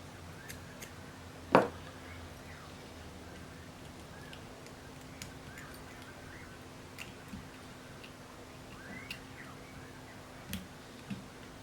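Scissors snip through thick fly-tying material at an angle while a carp mud bug fly is tied: one sharp close cut, then scattered softer clicks over quiet background.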